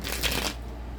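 A deck of playing cards is riffled in one quick, crisp shuffle lasting about half a second, close and clear, followed by quiet.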